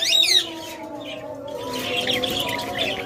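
Lovebirds and cockatiels for sale chirp and tweet together, a loud sweeping call at the start followed by overlapping softer chirps and whistles from several birds nearby.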